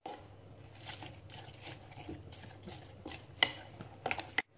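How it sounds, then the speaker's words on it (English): Pancake batter with chopped apple pieces is stirred in a bowl: soft, faint scraping and swishing strokes with a few sharper clinks of utensil against the bowl near the end. "Now I need just to mix it."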